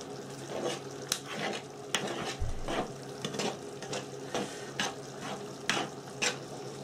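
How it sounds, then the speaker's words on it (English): Food is stirred in a frying pan, giving a steady sizzle with repeated scraping strokes of a utensil against the pan, close and moderately loud, with no one talking. "We'll stir that in and see how things get going then."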